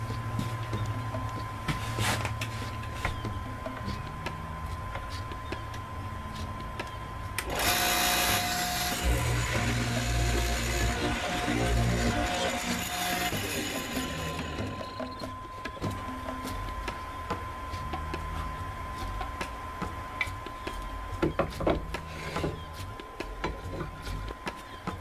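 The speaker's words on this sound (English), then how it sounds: "So getting ready to mortise that square end right now." A woodworking tool cuts a square-ended mortise in wood for a flask slot, a steady rasping and whirring burst lasting several seconds over a constant low hum, fairly close.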